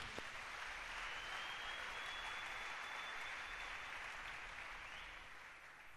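Sustained applause from a church congregation, a dense and even roar of clapping hands. It holds steady for six seconds and thins slightly toward the end, with no voices standing out.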